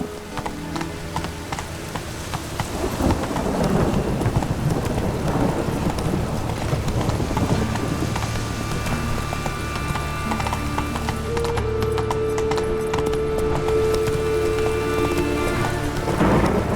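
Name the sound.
horse galloping in the rain in Witcher 3 video game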